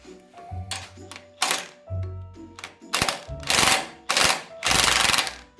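A ratcheting wrench turning a bolt on a Jeep TJ, giving close, loud bursts of rapid clicking in several separate runs with short pauses between, and no talk.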